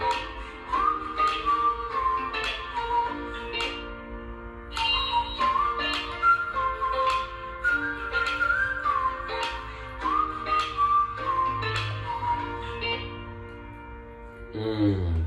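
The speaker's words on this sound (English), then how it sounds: "And then the whistle comes in." A whistled melody carries a song, bright sliding notes over a backing track with steady percussive hits, continuous and upfront.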